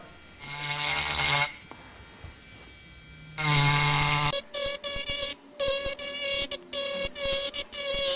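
A Tork Craft mini grinder engraving leaf detail whines in short high-pitched bursts: two longer runs, then a quick series of brief stop-start pulses with silent gaps between.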